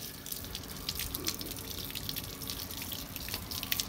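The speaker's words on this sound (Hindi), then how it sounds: "पानी भरा है, टूटी फुल खोले ना," Water runs steadily from an open tap at home, a soft continuous splashing flow heard close and fairly quiet.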